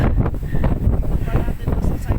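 Strong wind buffeting a microphone outdoors on a scenic lookout in the far north of the Philippines, a loud rumbling low roar in gusts, with voices speaking underneath.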